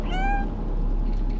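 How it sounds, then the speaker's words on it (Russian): A single cat meow from the video game Stray, a short clear rising-falling call at the start that fades into a low steady background hum from the game. "Я мяукаю, она кивает."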